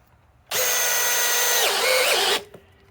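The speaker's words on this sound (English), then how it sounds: "let's go back to the Milwaukee 3rd generation M12 fuel hammer drill." Milwaukee M12 Fuel third-generation hammer drill runs loud and close for about two seconds, a steady high whine that dips in pitch partway through as the motor loads, then stops abruptly, with no talk.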